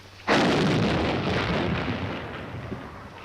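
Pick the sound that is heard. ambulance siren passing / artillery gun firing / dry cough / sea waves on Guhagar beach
artillery gun firing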